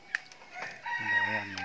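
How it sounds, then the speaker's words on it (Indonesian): A village rooster crows once, loud and clear at close range, with a faint cluck from other chickens just before. "ada ayam juga."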